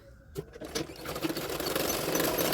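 A sewing machine runs a straight line of stitching on a lined double katori blouse, a brief fast whirring rattle that starts after a couple of soft clicks and holds steady.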